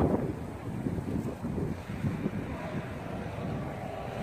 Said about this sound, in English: the wind's really picked up, man, out here